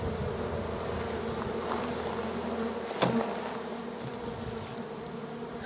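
Bees swarm around a Flow Hive, a dense, steady buzzing drone filling the air at close range, with a voice briefly speaking over it.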